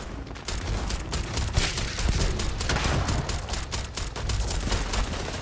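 Rapid automatic gunfire from a space shooter game, sustained bursts of closely spaced shots running continuously and loud throughout, with no talking.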